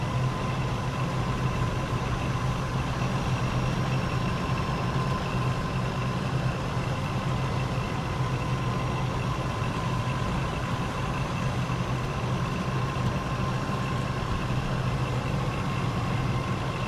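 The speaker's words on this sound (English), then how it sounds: "Engine is different sounding." Leclerc SXXI tank engine idling in War Thunder, a steady, loud low rumble with an unchanging drone that holds for the full length without pauses.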